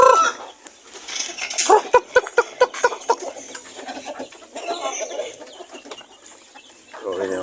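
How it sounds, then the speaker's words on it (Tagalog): Several chickens and a rooster on a small farm cluck in short bursts and sharp repeated calls, close by, with a faint voice now and then in the background. "So, yun yung ating mga manok na yan."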